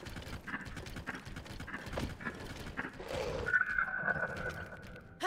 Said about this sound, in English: Horses do not stop as well as they used to.